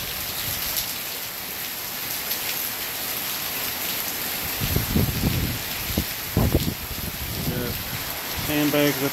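Heavy rain pours steadily during Hurricane Irma, a dense constant hiss of drops hitting surfaces close by, with a few brief muffled voices and thumps partway through.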